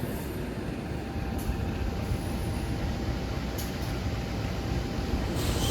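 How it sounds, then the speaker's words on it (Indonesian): Malabar passenger train running along the track, a steady low rumble of wheels and carriage noise filling the space, with faint high squeals surfacing now and then; no voices. "naik kereta api Malabar pagi"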